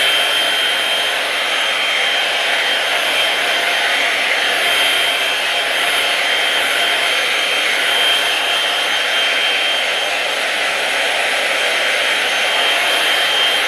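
Hair dryer blowing steadily on high speed during a curly hair routine, a loud, continuous whooshing roar with no breaks, close to the listener.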